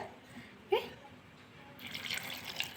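Water poured into a mixer jar of salted ground chutney: a quiet, short splash and trickle, then a soft, brief patter, faint and close.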